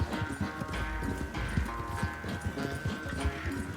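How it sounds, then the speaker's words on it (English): Horse hooves clip-clop in a steady galloping rhythm in Red Dead Redemption 2, loud and close throughout, with a soft bed of game ambience underneath. "Ó, isso que é cavalo bom, cara."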